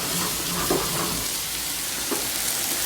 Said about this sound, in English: this has to come to a boil